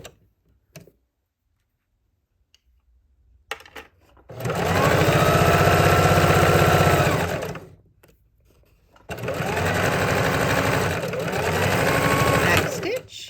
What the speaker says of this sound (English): we'll start and back stitch and go down one side